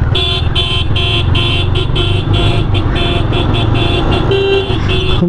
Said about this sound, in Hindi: हाँ हॉर्न मस्त है, बजा तो थोड़ा